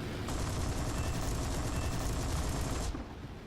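Rapid aircraft machine gun fire from a fighter plane in the combat flight game War Thunder, a sustained, dense burst lasting about three seconds before cutting off abruptly, loud and close.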